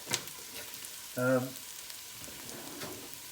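Spices, garlic, ginger and chillies for a one-pot mixed vegetable curry fry in a pan aboard a sailing boat, giving a soft steady sizzle with a brief louder tonal hiss partway through.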